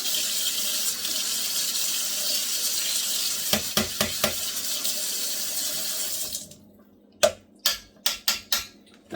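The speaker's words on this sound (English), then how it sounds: "Just going to rinse the fat out of it." Tap water runs steadily as fat is rinsed out of a metal strainer that had held strained cow feet, with clanks of the strainer against the sink, then the water stops and a few sharp knocks follow.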